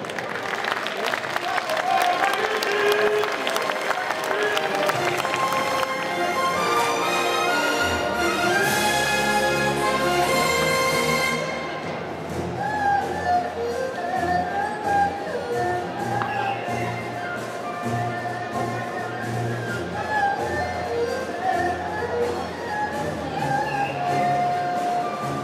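Audience applause at a Saturday cosplay costume contest, sustained clapping from a crowd mixed with loud music and some voices, continuing throughout.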